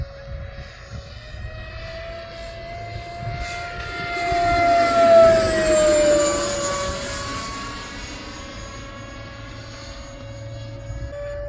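An Eflite F4 Phantom 80mm electric ducted-fan RC jet makes a flaps-up pass, its whine growing louder as it approaches, peaking overhead, then fading away with a clear pitch drop.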